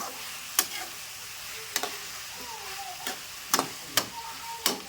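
Capsicum fries in oil with turmeric powder, giving a soft continuous sizzle. Sharp utensil clicks and scrapes against the pan recur at irregular intervals every second or so, with no voices.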